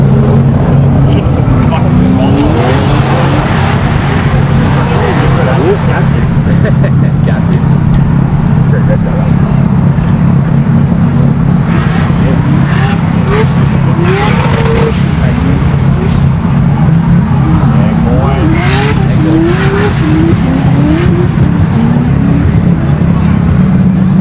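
A drift car making well over 1,000 horsepower in a drift battle gives a loud, steady engine roar with shifting revs throughout. A voice talks over it.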